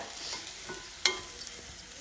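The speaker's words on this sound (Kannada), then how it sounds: "ಇದನ್ನು ಎಣ್ಣೆಲೇ ಒಂದು ಎರಡರಿಂದ ಮೂರು ನಿಮಿಷ ಚೆನ್ನಾಗಿ ಒಂದು ಸ್ವಲ್ಪ ಫ್ರೈ ಮಾಡ್ಕೊಳ್ಳಿ" Sprouted legumes fry in hot oil for a palya, giving a steady close sizzle with one sharp clatter of a spoon or stir partway through.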